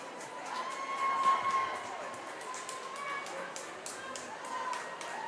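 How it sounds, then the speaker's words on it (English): An indoor crowd at a girls' high school state championship swimming prelims lets out a light cheer for Haddonfield, a steady murmur of voices rising briefly and then settling back to a moderate hum, with a few scattered shouts. "A little cheer goes over the crowd here for Haddonfield"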